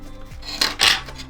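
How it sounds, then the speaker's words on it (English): Microfiber cloth soaked in rubbing alcohol is wiped across a Nintendo Switch part to clear thermal paste, giving two brief, close rubbing swipes. "I'll use some rubbing alcohol on microfiber, and then just swipe the rest of that up."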